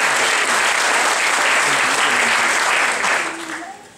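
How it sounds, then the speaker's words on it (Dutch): An audience gives a burst of loud, dense applause that holds steady for about three seconds, then tapers off and fades out toward the end. "Dat applaus klinkt al heel aardig hoor"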